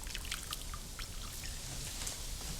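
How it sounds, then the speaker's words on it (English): Water drips and trickles as thawed frozen spinach is squeezed by hand over a kitchen bowl, faint close splatters in an irregular patter. "Just squeeze all the water out of this."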